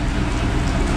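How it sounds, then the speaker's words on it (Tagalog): Heavy rain pours down steadily on Lukban–Sampaloc Road in Quezon during a solo motorcycle ride, a loud, continuous, dense wash of falling water. "nabutan naman tayo ng ulan dito"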